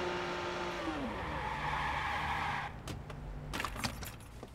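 A car in Watch Dogs revs and rolls along with a steady engine drone and a rising whine, then cuts out as it parks, leaving a few clunks and rattles.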